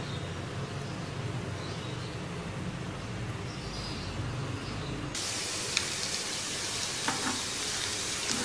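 Sliced onions fry in oil in a frying pan, a steady close sizzle that suddenly brightens into a sharper, louder hiss partway through, with a few faint clicks; no voices.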